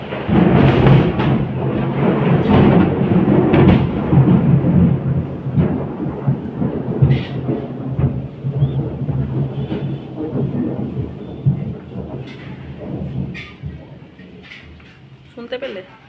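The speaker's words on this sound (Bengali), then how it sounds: "শুনতে পেলে কি জোরে মেঘ ডাকলো।" Loud thunder rolls during rain at a village house, a heavy rumble strongest at the start and slowly fading under steady rainfall, with people talking nearby.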